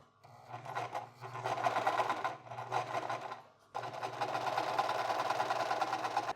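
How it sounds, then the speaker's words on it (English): Sewing machine stitching a button-up shirt made from scratch, a close, fast mechanical whir running in bursts with brief pauses before one long continuous run, with no talk. "And then let's stitch it on all the way around."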